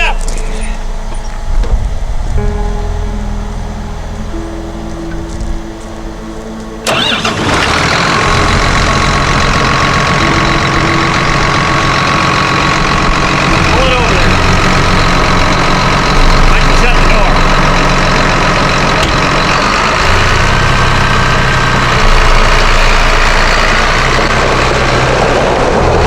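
A John Deere 7810 tractor engine cranks and catches after a few seconds, then settles into a loud, steady diesel idle that rumbles on close by.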